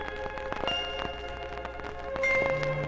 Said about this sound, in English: Even the little bells are struck like this.